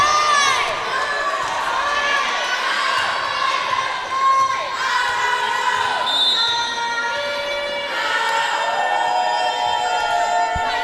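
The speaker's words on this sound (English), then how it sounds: "Looks like these Sailors freshman volleyball team are not very creative because they keep on saying the same cheer" A freshman volleyball team chants, a crowd of young voices shouting the same cheer over and over in a bright gym. The chants come in loud, repeated pitched phrases, and shouts and whoops mix in.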